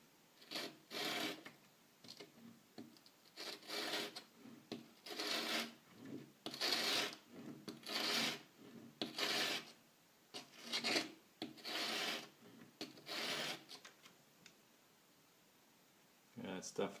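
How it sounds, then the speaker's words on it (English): Plane blade held in a Veritas MK-II honing jig being pushed across a sharpening stone, a series of close rhythmic scraping rubs in back-and-forth strokes with short pauses between them, ending in quiet. "it's only sharpening the very edge, so it's not in contact with the whole area here"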